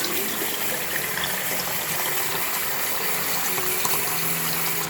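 Water running and slowly draining in a clogged bathroom sink, a continuous close rushing wash of water that stays steady and fairly loud throughout, with no voices.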